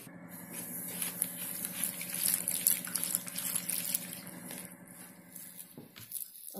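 Water splashes and trickles steadily as it is poured into flour for kneading puran poli dough in a home kitchen, continuous and close with no talking.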